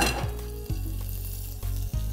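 Steady sizzling of butter melting in a hot saucepan, a continuous fat crackle with a couple of brief dips, close and fairly loud, no voices.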